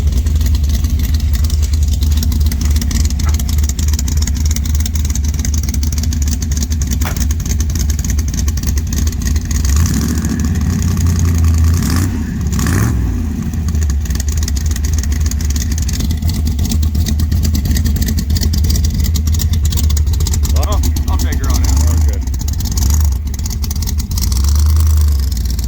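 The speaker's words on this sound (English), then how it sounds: "The engine needed bored, but we just still put it together, and it actually runs pretty good." A Dodge C800 truck engine, old and worn and in need of boring but recently retuned, idles loudly and steadily up close, with a deep rumble and a brief rise in revs near the middle.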